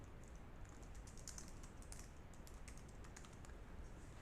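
Quick, steady typing on a computer keyboard while entering text in a Hangul word processor, a soft continuous patter of close key clicks with no voices.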